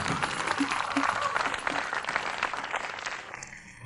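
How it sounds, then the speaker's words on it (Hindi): An audience applauds two fighters at a staged fight for wealthy spectators, with steady, fairly loud clapping that tapers off near the end. "चलो हम दोनों योद्धाओं के लिए तालियां बजाएं।"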